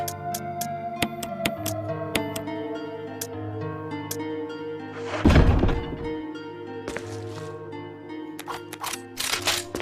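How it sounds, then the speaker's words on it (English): Weapon reload in Resident Evil HD Remaster, a single heavy mechanical thunk midway through over steady, tonal game music, with a few faint clicks around it. "A bit of a tactical reload there."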